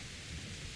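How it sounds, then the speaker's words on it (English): Rain in the video game Kingdom Come: Deliverance, a brief, steady, dense hiss of falling rain with a low rumble underneath, heard alone. "this could be some of the best rain that I've seen in a video game"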